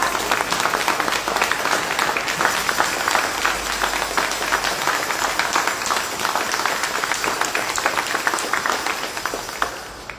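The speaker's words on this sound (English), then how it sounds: "You stand up and clap for that" Sustained applause from an audience at a memorial celebration of life, dense and even clapping throughout that fades slightly at the end.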